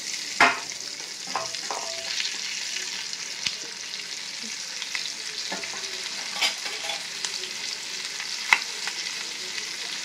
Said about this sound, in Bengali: এর মধ্যে আমি কেটে রাখা পেঁয়াজটা দিয়ে দিলাম।